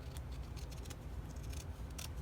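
Scissors snip through a piece of paper for a dried flower collage, a close run of quick, crisp cuts in an uneven rhythm, with no talking.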